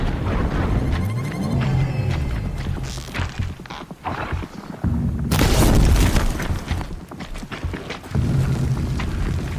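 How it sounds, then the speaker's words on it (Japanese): A machine explodes in Horizon Zero Dawn with loud booming blasts and crashing impacts amid clanking combat noise, rising and falling across the stretch with no talk. "あ、爆発した。"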